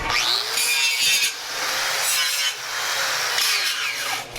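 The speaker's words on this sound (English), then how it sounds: "Notice how I turned that grinder off so that it would slow down very quickly" An angle grinder deburrs drilled holes in metal in repeated bursts, its high whine spinning down audibly between passes, close and fairly loud.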